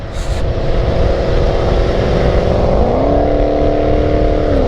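Steady loud engine and road roar heard from a moving motorcycle in city traffic, with a rising engine tone as a fast car pulls alongside and away.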